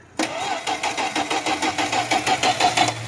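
A car engine cranks on a cold start with no fuel pressure. A rhythmic starter churn runs close and steady for about three seconds and never catches.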